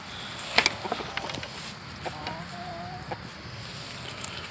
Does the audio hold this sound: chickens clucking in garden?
yes